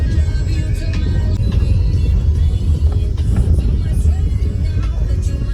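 A car rumbles along a badly broken, bumpy road on the way to George Everest, with a loud continuous engine and road drone heard from inside the car.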